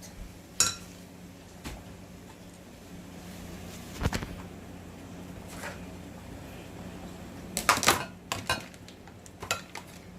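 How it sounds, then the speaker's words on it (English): Butter melting in a hot pot for Heath chocolate fudge is stirred with a utensil, giving scattered metallic clinks and scrapes against the pot, close and moderately quiet, over a faint background hum, with no talking. "Just gonna stir it until all the butter is melted off in here."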